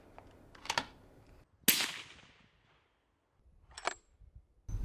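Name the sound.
rifle shots from a Remington 783 .223 with moderator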